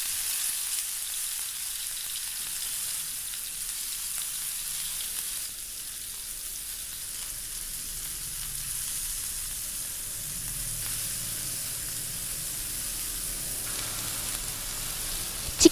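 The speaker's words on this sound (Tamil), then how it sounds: "சிக்கனை நல்லா 2 பக்கமும் ஃப்ரை பண்ணி எடுத்துக்கலாம்" Marinated chicken for homemade shawarma fries in sesame oil in a frying pan, giving a steady, even sizzle that carries on at moderate loudness with no voices and a small knock at the very end.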